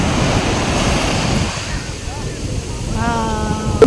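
Sea waves washing up on Alleppey beach, Kerala, during a strong high tide, a loud continuous surf wash with wind buffeting the microphone and a brief lull before the water surges in again.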